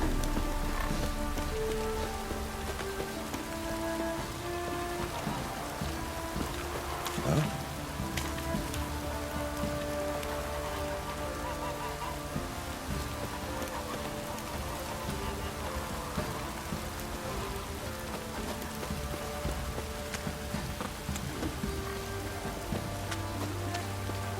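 Steady rain in The Witcher 3: Wild Hunt patters continuously on a surface, a dense even hiss with scattered drips, accompanied by a faint insect-like buzz and low background tones.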